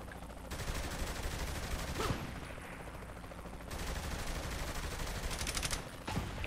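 Rapid gunfire in Saints Row The Third, bursts of automatic shots crackling loudly in close succession, pausing briefly before more volleys and a couple of sharper single shots.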